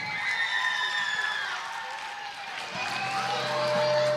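Concert audience at a tribute show, a broad wash of clapping and cheering with whoops, and a rising tone from a held note or feedback sounding under it in the second half.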